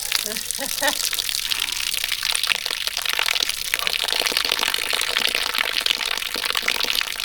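Rainwater pours and gushes steadily into a catchment container in a simple DIY harvesting setup, a continuous broadband splashing rush that stays loud and even throughout.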